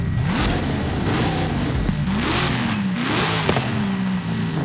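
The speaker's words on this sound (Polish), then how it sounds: "dajmy ten najmocniejszy 7-litrowy V8" A powerful 7-litre V8 engine in the video game Forza Horizon 5 revving up and down repeatedly, loud and close, with rising and falling pitch sweeps and a rough throaty rumble.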